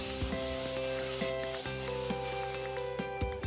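An abrasive rubbed steadily along a sled runner to sharpen it, a continuous close scraping and grinding that runs for the full length, with sustained tonal ringing underneath.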